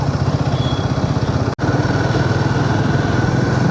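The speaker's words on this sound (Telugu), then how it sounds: "ఆటో వెళ్తుందట." A light three-wheeled auto rickshaw engine drones steadily close by on a highway outside Bangalore, its buzzing putter continuous with a single abrupt dropout partway through.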